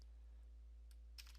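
Typing a command on the keyboard of a Dell G15 5511 laptop, a couple of quick key clicks near the end over a steady low electrical hum, quiet and close.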